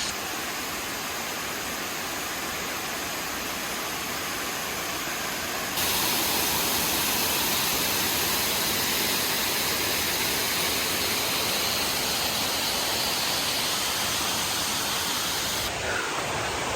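A forest waterfall in Sri Lanka roars as a steady, dense wash of falling water, loud and close throughout with no voices over it.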